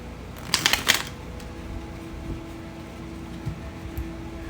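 A short burst of tarot and oracle cards being shuffled by hand, a brief papery riffle close to the microphone, followed by quiet room hum and a few soft taps.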